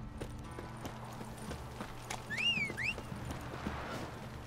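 Horse hooves clip-clop in The Witcher 3 with a soft, steady rhythm beneath game music and ambience, joined midway by a brief high whinny-like call.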